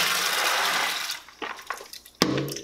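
Fresh water from a kitchen tap pours into a sink in a steady, fairly loud rush for washing peas, then cuts off, leaving a few soft splashes and a clunk.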